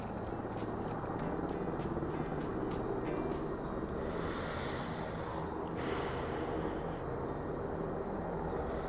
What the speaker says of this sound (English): those helicopters aren't as loud on the mic, luckily, as it is here in real life